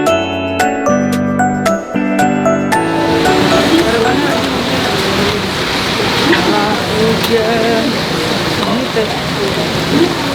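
Rain pours down steadily as a loud, dense hiss that takes over after a few seconds of chiming jingle tones, continuing unbroken to the end.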